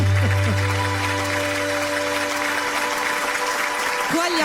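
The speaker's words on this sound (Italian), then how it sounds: "Qua gli applausi hanno un inizio, ma non hanno una fine." An audience applauds steadily after a sung duet at a radio-TV studio show, dense clapping sustained throughout while a held tone and faint voices sit underneath.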